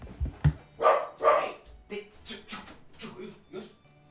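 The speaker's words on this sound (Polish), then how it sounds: "O nie, pies." Dog barking in a video game, a few short barks near the start followed by quieter yips and whines, with people talking over it.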